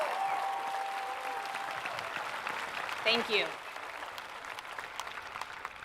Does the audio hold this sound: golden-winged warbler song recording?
no